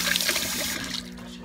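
Brewed Vietnamese iced coffee trickles into a cup beneath the machine, a brief steady liquid stream with a faint hum.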